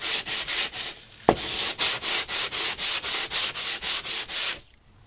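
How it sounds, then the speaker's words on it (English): A sharpening stone is rubbed back and forth on a flat truing surface, making a loud, steady rasping scrape in about fifteen regular strokes with a brief knock partway through and a sudden stop at the end. "Now rotate your stone. Then almost there."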